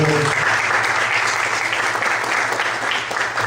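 A church congregation applauds in praise, a dense, steady wash of clapping from many hands that fills the whole stretch at an even level, with no voices standing out above it.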